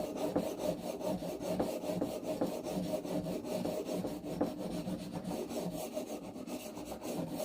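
A chisel rubbed steadily back and forth on a sharpening stone, a continuous close rasping scrape with even strokes and no talk.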